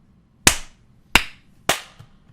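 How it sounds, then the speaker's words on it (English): Three sharp, isolated hand claps ring out in a quiet room at the start of a podcast recording, each crisp and close with a short decay and a brief gap between them. "count down from 3, 3, 2, 1, and then clap, and that's how we'll sync it up"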